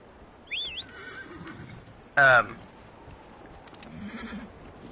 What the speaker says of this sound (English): Where's our horse? Hey, horse.